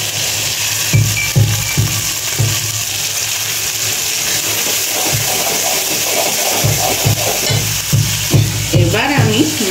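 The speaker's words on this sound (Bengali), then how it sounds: "মশলাটা কষানো হয়ে যাচ্ছে। এবার আমি বড়ি দিয়ে দিচ্ছি।" Bori lentil dumplings go into a sizzling, fried-down spice paste for a rohu fish curry, a loud steady frying hiss with intermittent low clatter and stirring bumps in the pan, and brief speech near the end.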